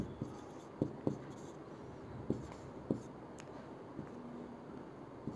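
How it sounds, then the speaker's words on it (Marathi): A pen or chalk writes in a series of short, sharp strokes and taps spaced a second or so apart, faint and close, under low room noise. "आपण लिहित जाऊया"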